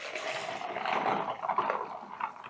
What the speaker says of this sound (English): I'm gonna add just a little bit of baking soda and some warm water